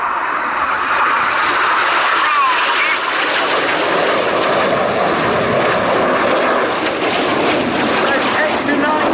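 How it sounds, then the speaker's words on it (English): Red Arrows display jets dive low over the airfield at Cosford, roaring loud and close with a hissing, rising jet rush that swells and fades, under a commentator talking over a public address. "Will now dive down to only 100 feet above the airfield. They have a closing speed of over 800 miles per hour."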